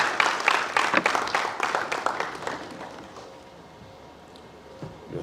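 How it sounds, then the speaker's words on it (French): An audience at the opening session of the Africa SME Champions Forum in Cotonou breaks into applause, with dense clapping that is loud at first and fades to a quiet room after about three seconds. "j'appelle à ce pupitre M. Félix Aménouvé, sous vos applaudissements."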